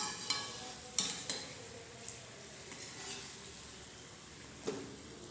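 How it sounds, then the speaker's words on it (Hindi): Gujiya frying gently in lightly hot oil over a low flame make a faint, soft, continuous sizzle, with a few light utensil taps scattered through it and no voices. "2 से 3 मिनट तक बिल्कुल लो फ्लेम के ऊपर फ्राई करने के बाद अब हम इसे पलट देंगे।"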